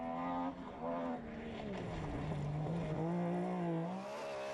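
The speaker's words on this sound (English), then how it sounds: "The 6R4 really is a great rally car, one of the classics. It looks and sounds superb." A 6R4 rally car engine at racing speed, its tone climbing and dropping as it revs through the gears, loud and steady throughout with no voices.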